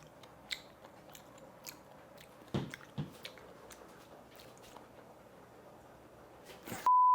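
Soft, close biting and chewing of seared vegan scallops made from mushrooms, a few faint crunchy bites and squishy chews spread over a quiet background, ending with a short electronic beep.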